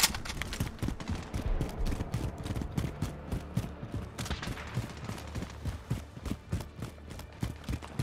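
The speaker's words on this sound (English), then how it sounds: "Taking fire!" Rapid gunfire during a raid in Call of Duty: Modern Warfare, with steady close crackling shots and bursts running throughout at moderate level.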